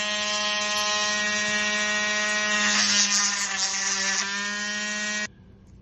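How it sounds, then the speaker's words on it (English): A high-pitched Dremel rotary tool drilling holes whines steadily at close range, its tone wavering slightly under load before cutting off abruptly near the end. "The next thing I do is drill holes for limbs. So using a Dremel."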